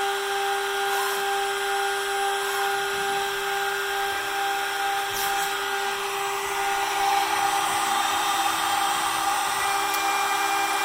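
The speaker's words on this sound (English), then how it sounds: "we just turn the spindle back on" A CNC spindle routes a guitar fretboard, giving off a steady, loud, high-pitched whine that holds constant for the whole stretch with no voices.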